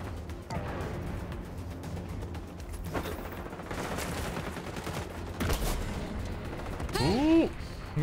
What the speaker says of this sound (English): We got someone sniping.